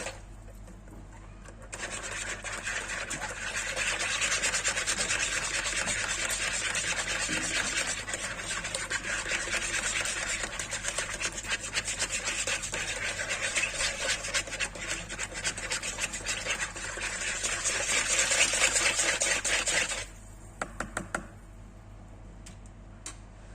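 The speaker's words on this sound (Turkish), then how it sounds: "Şimdi hepsini beraber tekrar çırpalım." Dough ingredients with salt and an egg whisked together in a bowl, a fast continuous close scratchy rattle of whisk strokes lasting about eighteen seconds before stopping, followed by a few taps.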